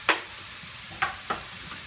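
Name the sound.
kielbasa sausage sizzling as its fat renders in the pan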